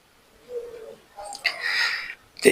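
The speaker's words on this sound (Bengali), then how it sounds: "এ জায়গায় আমার কোয়েল পাখি এবং দেশি মুরগি দুটোই পালন করা হয়" Birds on a small farm keeping quail and native chickens, with a low cooing call followed by brighter chirping calls, close and fairly quiet, and no speech.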